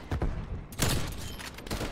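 Rapid bursts of gunfire in the Call of Duty: Black Ops Cold War video game, loud and dense: a heavy volley, a brief gap, then further overlapping shots.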